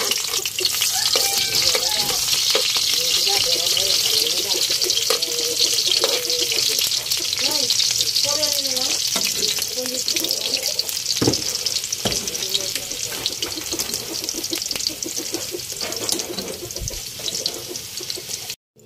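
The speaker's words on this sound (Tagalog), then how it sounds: "naglagay tayo ng mantika kasi magluluto tayo ng pansit" Cooking oil heats in a pan for pancit noodles, with a steady, dense sizzle throughout, scattered clinks and clatter, and faint voices underneath.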